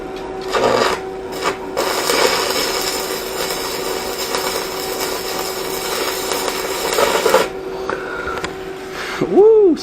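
An Everlast MTS 211si multi-process welder lays a bead on thin metal, a loud, steady crackling hiss that runs nearly unbroken for several seconds, close to the microphone, with a short vocal whoop at the end.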